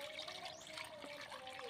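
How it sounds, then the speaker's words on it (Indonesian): Water poured over a newly planted serut (Sandpaper Vine) bonsai cutting makes a steady close trickle and splash, running continuously without pause. "Siram gini mas."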